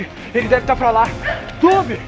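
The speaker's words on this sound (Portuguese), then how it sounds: "Tem um cachorro latindo ali." A dog yips and barks a few times in the distance while a person speaks over it.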